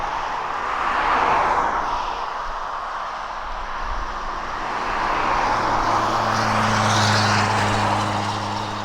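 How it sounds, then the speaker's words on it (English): A JCB executive jet arrives at East Midlands Airport, its engine roar a broad, steady rumble that swells and eases slightly as the aircraft approaches, continuous and fairly loud, with no voices. "the JCB executive jet was coming in"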